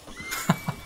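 A horse in the Red Dead Online video game whinnies, followed by a few soft, evenly spaced hoof-like thumps, with no talking.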